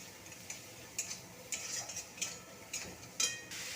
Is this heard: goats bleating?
no